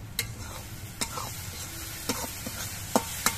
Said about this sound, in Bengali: এবার সবকিছু দিয়ে মশলাটা কিছুক্ষণ কষিয়ে নেব।